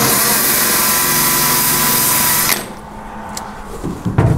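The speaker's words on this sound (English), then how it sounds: "Get our wire wheel." A power tool spinning a wire wheel grinds loudly and steadily against the metal of a 1960s Chevy or GMC truck cab, then stops abruptly, leaving a few light knocks and shuffles.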